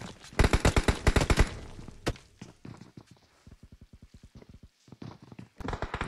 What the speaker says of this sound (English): So much gunfire down low as well.